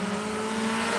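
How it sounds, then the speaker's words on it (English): A Suzuki Swift drift car runs at the Raymond race track during a drifting event finals, its engine a steady, loud, continuous drone with broad tire and exhaust noise and no talking. "And off we go with another Swift, starting out with their runs in the INAC finals."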